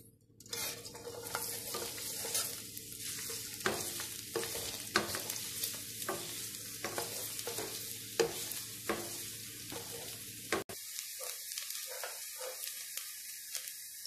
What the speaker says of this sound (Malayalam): ഇനി നമുക്കിത് വലിയ ഉള്ളിയും മുന്തിരിയും ഒക്കെ വഴറ്റിയെടുക്കാം.